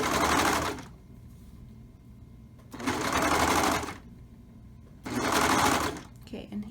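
A sewing machine stitches a t-shirt neckline in three loud, steady runs of whirring needle action, each lasting about a second, with quiet gaps between them.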